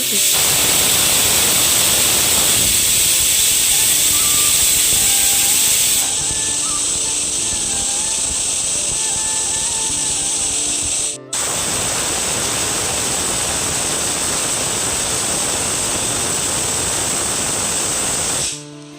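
A pressure cooker of cabbage on a stove lets out a loud, sustained hiss of escaping steam with a high whistle tone. The hiss briefly cuts out partway through, then resumes just as strongly.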